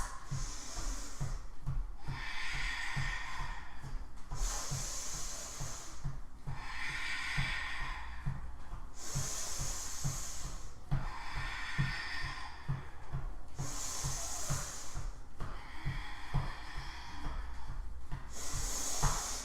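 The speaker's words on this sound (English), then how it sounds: "Long, deep breaths." During a kundalini yoga flow, long deep breaths repeat in a slow, steady rhythm, each inhale and exhale a breathy hiss, close and unaccompanied, with a faint rapid pulsing underneath.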